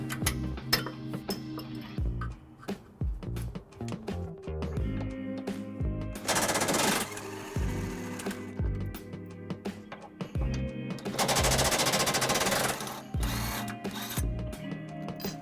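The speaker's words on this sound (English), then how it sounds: "we need to remove this tow hook here, which is held in by 2 bolts that take a 17mm socket to remove" A ratchet or impact tool on a 17mm socket rapidly clicks and buzzes in bursts while backing out the two tow hook bolts under a 2018 Lexus RX350, with heavier whirring stretches between close, loud metallic rattles.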